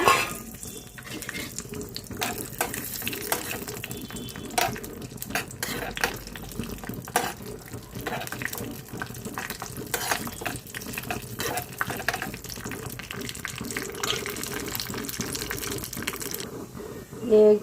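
Cashews and raisins frying in hot ghee for a sweet rice pudding offering, a steady close sizzle with scattered clinks and stirring of a spoon against the pan, with a voice speaking over it.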